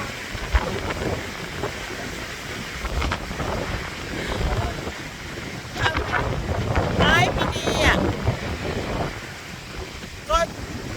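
Strong, gusty wind on a sunny, snowy day in Switzerland buffets the microphone with a continuous low rumble that swells and fades, while someone talks at times.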